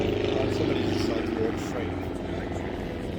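A Druine D.31 Turbulent light aircraft flies low past the crowd at an airshow limbo display, its steady propeller engine drone loud and continuous under an announcer's commentary.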